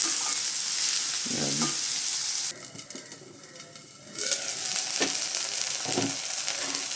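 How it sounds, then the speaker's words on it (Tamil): Beans sautéing in a pan for rava upma give a continuous sizzling fry with stirring scrapes, briefly quieting midway before the sizzle returns. "பீன்ஸ் போட்டு வதக்கிறோம்."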